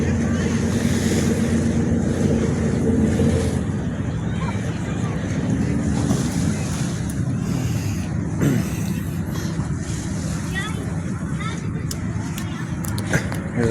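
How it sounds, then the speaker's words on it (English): A boat out on open water with waves washing and steady wind buffeting the microphone, a continuous low rumble throughout while people talk over it. "Look at that boat."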